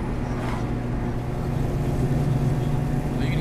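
An old beater car driving, its steady road and engine drone filling the cabin with a low rumbling hum suggestive of a bad rear wheel bearing, continuous and fairly loud throughout.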